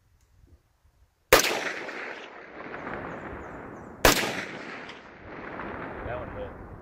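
Two sharp gunshots from plinking with store-bought ammunition, about three seconds apart, each a loud crack trailing into a long, rolling outdoor echo.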